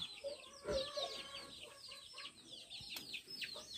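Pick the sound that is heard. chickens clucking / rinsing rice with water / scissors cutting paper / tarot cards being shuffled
chickens clucking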